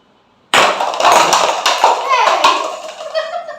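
A ball strikes a pyramid of cups in a cup knockdown game, setting off a loud burst of clattering and tumbling cups, with scattered knocks trailing off over a few seconds.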